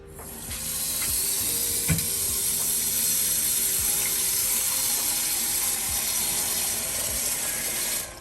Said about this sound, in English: We're gonna put water in it.